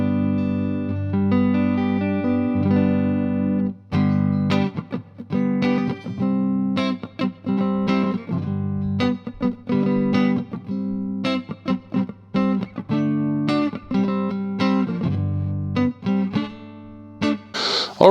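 A Fender Custom Shop Stratocaster electric guitar played on the neck pickup rings out in clean, sustained chords and single notes, with a few rhythmic strummed stabs and short gaps, close and unaccompanied.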